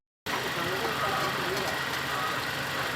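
A hot car engine idles with a steady, coarse mid-range hum and faint knocking, starting abruptly and running close and constant throughout.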